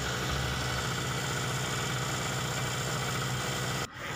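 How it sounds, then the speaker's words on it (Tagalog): A small portable generator engine runs at a steady, even idle after a recoil start, a continuous low chugging drone that cuts out abruptly near the end. "hawakan po ang recoil starter holder at hilayin po para umandar ang makina"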